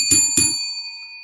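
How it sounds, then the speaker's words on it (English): A small bell is struck twice in quick succession, each bright metallic ding close and loud, then a clear ringing tone hangs and slowly fades. "Let's ring the bell for Larry at the Dixon Way."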